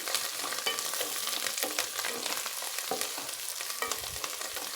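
Mint and tomato pickle ingredients fry gently over a low flame, a steady close sizzle with crackles and occasional stirring scrapes and clinks, with no voices.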